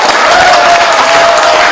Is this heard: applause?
yes